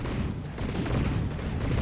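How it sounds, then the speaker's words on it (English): Cannons firing in the naval combat game From the Depths, a rapid continuous barrage of heavy, booming shots blurring into a rumbling roar, loud and close. "I kind of like the sound of these cannons."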